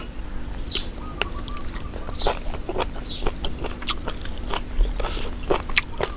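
Someone eats during an eating show, giving close, repeated crunchy bites and wet chewing in an irregular rhythm, with faint background sounds and no clear speech.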